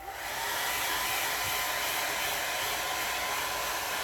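A hair dryer blows on a watercolor painting for a partial dry, a steady, close whooshing hiss that runs continuously with no talk.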